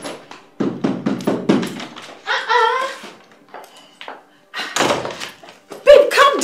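Hard thuds and knocks strike a door in a rapid burst of heavy blows, separated by stretches of agitated talk and shouting from a woman, with a few more impacts later.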